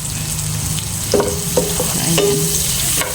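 Onions and garlic frying in butter sizzle steadily close up, with a few scrapes of stirring and a brief spoken word over the hiss.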